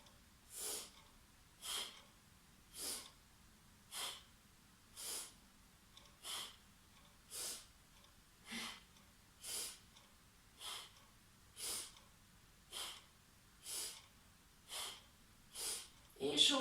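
Steady, audible breathing in and out during a yoga exercise, with about fifteen evenly spaced breaths in a regular rhythm, close and fairly quiet.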